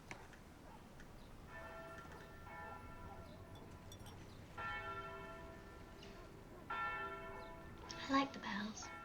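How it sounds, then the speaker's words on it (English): Church bells ring out in bursts of sustained tones, with a fresh peal starting at intervals and a louder stroke near the end, heard at moderate distance over a low rumbling background. "I like the bells. I like to hear that there is life waiting for us."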